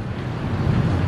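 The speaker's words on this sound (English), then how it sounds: "a 2 in the afternoon storm that comes in super strong like this and just absolutely drenches us with all of this torrential rain" A strong afternoon storm with torrential rain blows in, heard as a loud, dense, steady roar of rain and wind gusting against the microphone with no voices.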